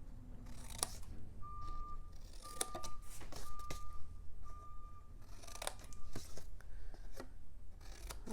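Scissors cutting notches into paper pieces for a diagonal flip box, a series of crisp, close snips spread across several seconds, with soft handling noises between cuts and a faint tone in the background.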